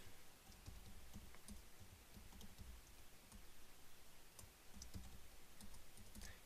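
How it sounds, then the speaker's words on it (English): Quiet typing on a computer keyboard while filling in an online wholesale account form, a soft, irregular run of key clicks with no talking. "Excuse my typing."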